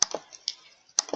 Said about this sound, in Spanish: Damos doble clic.